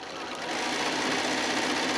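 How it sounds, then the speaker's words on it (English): Sewing machine stitching around the perimeter of a quilt-as-you-go mat, a rapid steady whirring that starts softly and builds within the first half second, then runs evenly and close up. "we're pretty much just going to be stitching around the outside perimeter one more time"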